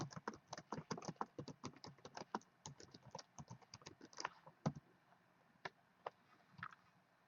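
HTML code is typed on a computer keyboard in fast, close, crisp keystrokes that thin out into a few sparse taps near the end, with no voices.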